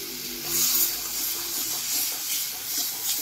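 Marinated chicken hits hot spiced oil in a pan and sizzles with a loud, steady hiss that holds throughout with slight swells, no voices.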